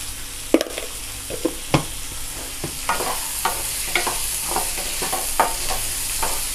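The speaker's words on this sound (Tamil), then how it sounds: "கேரட்டு, பீன்ஸு, பட்டாணி மூணையும் வதக்கிடலாம்." Carrots, beans and peas for rava kichadi are sautéed in a pan, with a steady sizzle broken by a dozen sharp spatula scrapes and taps at an uneven pace, close up and without speech.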